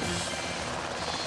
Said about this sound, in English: the growers hear the helicopters and run.